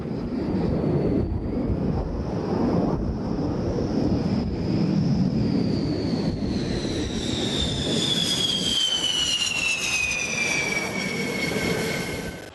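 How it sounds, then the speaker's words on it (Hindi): Rafale fighter jet flown by an Indian Air Force pilot, a loud, continuous jet roar with a high whine that slowly falls in pitch as the aircraft passes and comes in to land, with wind buffeting the microphone. "देखिए आसमान में परवाज भरते राफेल लड़ाकू विमान और फिर भारतीय एयरफोर्स के पायलट ने कितनी सफाई से इसे जमीन पर उतारा।"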